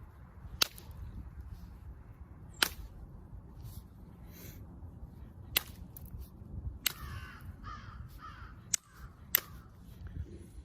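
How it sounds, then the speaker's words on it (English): Crows caw now and then at a moderate distance outdoors while stone is struck in flintknapping, with sharp cracking knap strikes landing at irregular intervals over a low background rumble. "It's crows, man."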